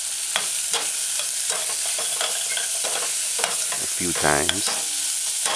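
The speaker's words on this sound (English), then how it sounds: "Do as you see me doing and kind of stir in the ingredients" A spoon stirs ingredients frying in a pot for a saltfish and chickpea stew with pimento berries, making repeated scraping strokes over a steady sizzle while a voice speaks briefly.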